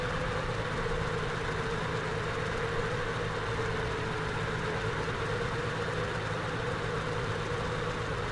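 A microlight aircraft engine idles at low throttle in Flight Simulator X, a steady, even drone with a constant low hum that holds throughout without talk.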